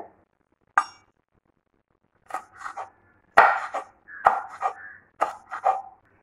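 A knife chops green beans into thin oval slices for a Kerala bean stir-fry: about eight crisp, separate cuts on a board, close and fairly loud, in short bursts with pauses between them. No one speaks.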